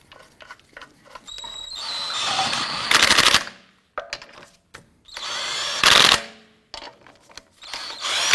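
Impact tool snugging down wheel lug nuts in several loud rattling bursts, each a second or so long, separated by short pauses and small clicks, close by.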